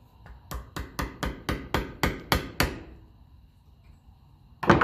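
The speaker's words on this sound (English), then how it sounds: "Give it a tap with a screwdriver." Sharp metallic taps of a screwdriver strike a part on a 1954 Ferguson TEF 20 diesel tractor, about ten quick evenly spaced knocks in a row, then a pause and one louder clatter.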